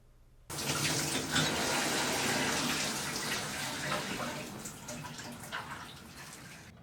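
Shower water hisses on abruptly and runs in a dense, steady spray, close and fairly loud, holding for several seconds before easing slightly.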